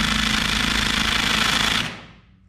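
An impact wrench hammers on a Yamaha FZR600 600cc motor during a teardown, giving a loud, rapid rattling burst of about two seconds that cuts off abruptly.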